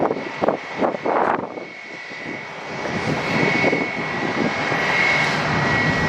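A Boeing 757 jet airliner on the ramp at Atlanta airport, a loud steady engine roar building after a few brief bursts, heard close and without talk.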